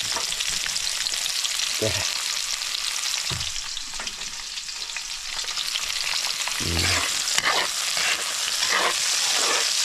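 A crab fries in hot oil in a small pan, a steady loud sizzle and crackle with a few low thumps and stirring knocks; someone says a single word.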